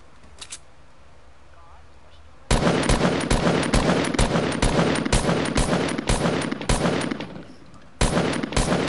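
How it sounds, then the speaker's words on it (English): Rapid assault rifle fire in a video game, loud bursts of repeated shots in quick succession that start abruptly after a quiet moment, break off briefly, then resume, with a voice speaking faintly early on. "I'm shooting AR ammo so people's like come to me."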